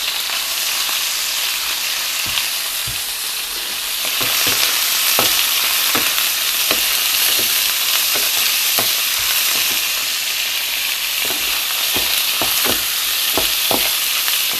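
Steady, loud sizzling of pork belly frying in a hot pan, with occasional crackles and pops throughout; no talking.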